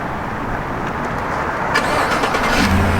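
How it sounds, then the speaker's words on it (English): A 2018 Chevrolet Tahoe Premier with a 5.3 liter V8 starts by remote start, an even idle-like rumble that swells into a brief crank and catch near the end, heard up close without talk. "All you have to do to remote start the vehicle is just hold this button down for 5 seconds."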